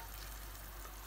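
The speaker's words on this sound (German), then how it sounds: "Das Ganze herum können wir jetzt ganz kurz einmal umrühren." Garlic soup being stirred in a pot, a faint, even hiss of simmering liquid with soft stirring texture throughout, quiet and close with no speech.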